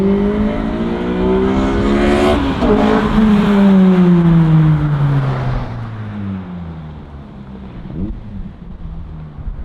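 Honda Civic Si engine with a cold air intake, revving loudly and climbing in pitch, then falling away into a fading drone as the car pulls past, close and aggressive-sounding with no talk over it.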